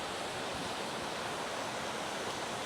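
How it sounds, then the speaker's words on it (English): Waterfall and river at Springbrook National Park, a steady, broad rushing roar of falling and flowing water, continuous and fairly close with no talk. "have a look where the river's actually running from where it fell down the waterfall there"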